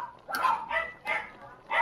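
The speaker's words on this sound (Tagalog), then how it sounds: "Maingay yung mga aso." Several dogs barking in repeated loud yaps and yips, some strained and whimpering, in uneven bursts that sound fairly close, heard outdoors near a cooking area with no talking over them.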